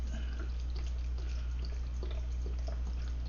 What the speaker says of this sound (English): So I'm going to add the beef broth now. All of it. 32 ounces.